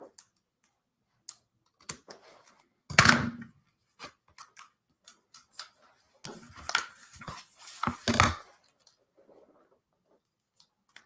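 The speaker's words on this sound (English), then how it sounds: "so I'm going to just snip that." Paper being snipped with scissors during a scrapbook page kit assembly: sparse, close crisp cuts and rustles, with a couple of louder snips and handling noises in quiet surroundings.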